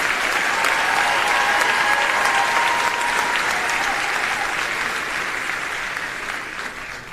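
A large graduation crowd claps steadily in a broad wash of applause that holds strong for most of the stretch, then gradually thins and fades toward the end.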